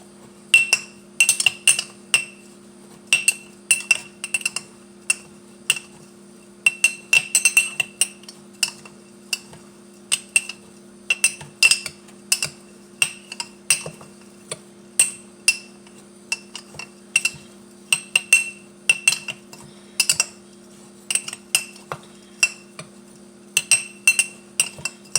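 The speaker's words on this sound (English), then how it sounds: "Now I'm gonna mix all this up." A spoon clinks repeatedly against a glass jar while overnight oats with cinnamon are stirred, sharp close taps in irregular bursts over a steady low electrical hum.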